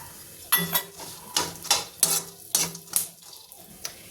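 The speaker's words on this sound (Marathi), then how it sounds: "सोबतच आता काळे मनुकेसुद्धा आपण भाजून घेऊयात." Black raisins roasting in ghee for makhana dry-fruit ladoo bring a rhythmic series of spatula scrapes and metallic clinks against the pan over a soft sizzle, close and fairly loud.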